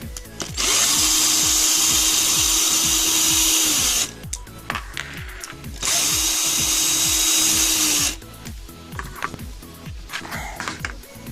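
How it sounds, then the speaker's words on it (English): Cordless power driver backing out two 2mm screws from an RC car shock tower: two steady whirring bursts of about three and a half and two seconds, close and loud, separated by faint handling clicks, with no talk. "you're going to want to go ahead and remove these two screws here to lift the body mounts off."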